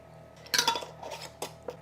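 A spoon stirs kale chip dressing with chili powder, salt and sesame seeds in a bowl, giving a few close, quick clinks and scrapes, with a final light tap near the end and no talking.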